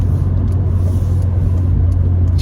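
Honda Civic Si with upgraded hybrid racing clutch master and slave cylinders, a loud, steady low engine drone heard from inside the car, heavy and continuous with no talking.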